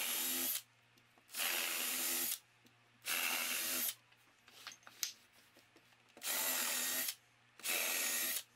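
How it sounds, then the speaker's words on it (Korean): A power drill bores holes into a wall for shelf brackets: five loud whirring bursts of roughly a second each, separated by short pauses filled with faint handling clicks. "브라켓이 벽에 고정될 구멍을 뚫습니다."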